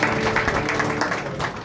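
An audience at a devotional abhang bhajan performance claps in a brief, loud burst of dense, even applause.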